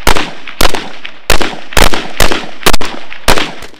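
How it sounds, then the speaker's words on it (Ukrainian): Sharp, loud rifle shots crack out in a steady series, about seven in under four seconds, each echoing briefly before the next, at a youth shooting competition on a 100-metre range in Ukraine's Kirovohrad region. "По готовності стріляти!"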